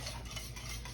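Roux is stirred into creamy chicken pot pie filling in a pot, a brief close, soft continuous swishing and sloshing with faint utensil contact.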